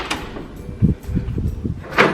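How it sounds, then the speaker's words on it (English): A dorm room door swings open, with a few close knocks and clunks from the latch and frame, followed by a brief brighter rattle at the end. "So this is the door"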